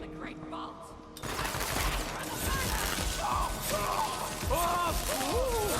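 Gunfire and explosions from the video game Borderlands 3 in a dense, continuous barrage of shots and blasts with mechanical clatter and whooshing effects, loud and close after a quieter opening.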